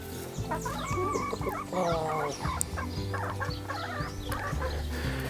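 Chickens and brooding hens cluck and murmur steadily inside a farm coop, with overlapping calls, the odd distant crow and other poultry sounds, close and continuous without talk.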